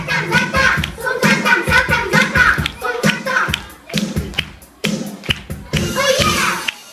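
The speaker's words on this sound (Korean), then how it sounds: "박수!" Scattered hand clapping mixed with excited children's voices, bursts of claps coming in uneven clusters, close by and lively.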